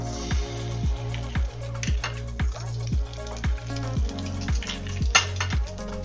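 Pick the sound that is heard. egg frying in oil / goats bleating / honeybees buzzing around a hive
egg frying in oil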